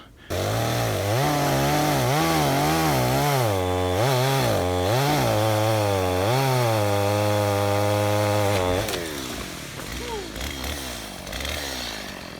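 A Stihl MS250 chainsaw cuts through a big log at the base of a tree, its engine loud and close, rising and falling in pitch as the chain bites, then dropping to a rough idle near the end.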